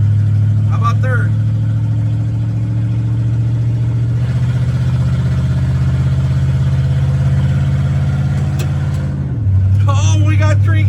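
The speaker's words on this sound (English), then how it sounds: "Oh, there's second gear. How about third?" A Chevrolet C30 truck moves under its own power on its first drive, its engine a loud steady drone that holds through a long pull, then dips and changes pitch at a gear shift, with someone talking over it.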